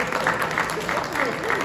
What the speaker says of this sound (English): Clap it up for Oprah.